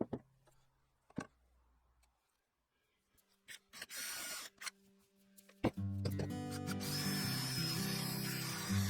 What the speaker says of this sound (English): drilled a shallow hole for the tailstock centre and a deeper one for the woodworm screw